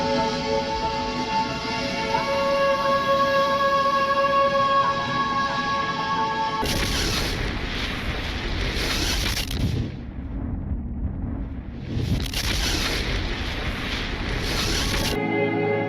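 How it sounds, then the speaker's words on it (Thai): A cinematic explosion effect depicting a gamma-ray burst from a collapsing dying star: a low tonal drone gives way to a sudden loud, roaring blast that swells in two heavy waves before cutting off. "ดาวฤกษ์ที่กำลังตายยุบตัว และปล่อยสายทานของอนุภาคที่เคลื่อนที่ใกล้อัตราเร็วแสง ซึ่งทำให้เกิดการระเบิดรังสีแกมมา"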